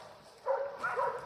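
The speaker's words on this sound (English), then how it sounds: "I can hear him barking" A Laika hunting dog barks at a treed bear in West Virginia woods, two short yelping barks at middle distance, fairly faint.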